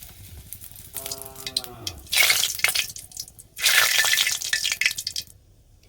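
Dried chilies and bay leaf frying in hot oil in a wok for vegetable and semolina khichuri, a sudden loud sizzle bursting in twice and then fading, with a brief tonal sound before it.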